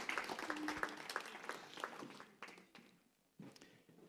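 An audience at a Valentine's Day church gathering claps, a scattered and fairly faint round of applause that thins out and breaks into a few separate claps toward the end.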